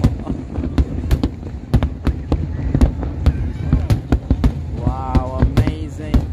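New Year fireworks over Al Marjan Island, part of a record-breaking display: a rapid run of loud, sharp bursts and cracks, some near and some farther off, over a steady rumble, with excited crowd voices and cheering in the background.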